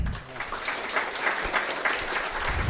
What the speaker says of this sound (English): Let's give a round of applause to Kevin again.